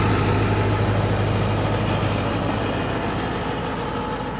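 A Mahindra 585 tractor runs a rotavator through soil, its engine giving a steady, close, low chugging drone throughout.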